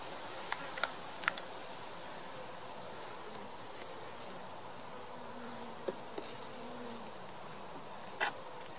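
Honeybees hum softly and continuously around a hive during Apiguard varroa treatment, with occasional faint clicks and taps close by and no talking.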